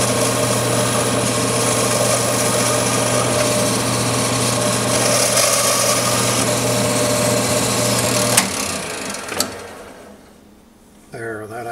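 An elk antler pen blank spins on a wood lathe while a skew chisel takes a light cut, giving a steady high motor whine with a low hum that runs for about eight seconds, then stops abruptly and leaves a few faint clicks.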